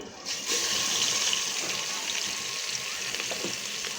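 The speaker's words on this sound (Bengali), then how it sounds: "আমার তেল গরম হয়ে গেছে, এখন আমি বেটে নেওয়া মশলাগুলো ঢেলে দিব।" Ground spice paste hits hot oil in a pot while chicken khichuri is being cooked. A sudden burst of sizzling settles into a steady, moderately loud frying hiss, with no one speaking.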